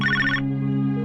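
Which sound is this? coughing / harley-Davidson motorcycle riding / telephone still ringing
telephone still ringing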